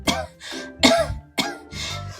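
A storyteller voices a rabbit character's cold with four harsh, throaty coughs in a loose rhythm, close and loud, a human voice imitating the coughing for a children's story.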